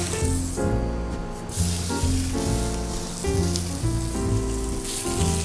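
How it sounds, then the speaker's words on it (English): Fish fillet searing in olive oil in a hot pan, seasoned with kosher salt and black pepper, giving a steady close sizzle and spatter with no talking. "I cook it around 30 seconds on each side just to keep it like a nice mark on the fish"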